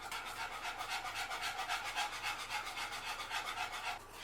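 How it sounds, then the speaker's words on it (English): A whisk scrapes rapidly and rhythmically around a pot of cornstarch-thickened sauce, a soft, steady back-and-forth rasp heard close up. "you want to continue to whisk this after you get these ingredients in until it does start to boil"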